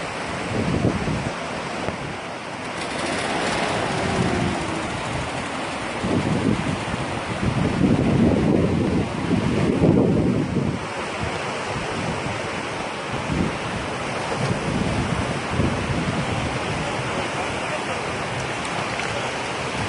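Flash flood torrent rushing through Wadi Shawqab, sweeping away a jeep; a loud, continuous roar of churning water with wind buffeting the microphone throughout.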